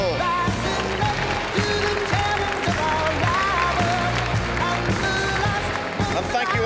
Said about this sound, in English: a big round of applause for the winner of the most inspirational secondary school